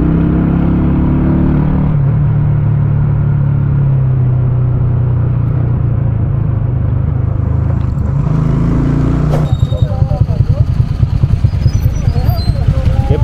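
Motorcycle engine rumbling steadily while riding on a highway toward Fómeque, Cundinamarca, Colombia, a loud close drone with wind, turning rougher and pulsing near the end.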